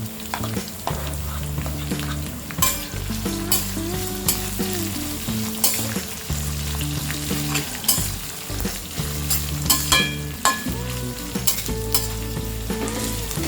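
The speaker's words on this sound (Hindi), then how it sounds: "हम इसे मीडियम फ्लेम में अनियन सॉफ्ट होने तक फ्राई करेंगे।" Thinly sliced onions fry over a medium flame in a pan, a continuous close sizzle broken by frequent sharp stirring clicks and scrapes, with a low hum running underneath.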